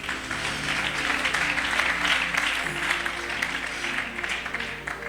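Congregation applauding the Lord during a church service, dense sustained clapping from a crowd filling the room, steady and moderately loud throughout.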